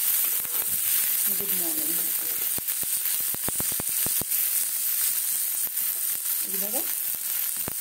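Litti chokha frying in a pan, a steady broad sizzle running throughout with clicks and crackles, under a woman's speech.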